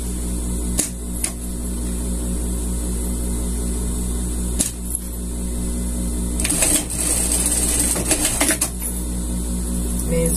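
A sewing machine stitches a seam joining the legs of a scout costume, a close mechanical hum with rapid needle chatter, broken by sharp clicks and a louder rattling burst near the end.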